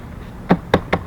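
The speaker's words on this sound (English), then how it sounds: "Pull it home, turn the key." Three sharp clicks on a Honda CB1100 motorcycle pannier case as it is latched shut and the key is turned in its lock, close and crisp, spaced about a quarter second apart.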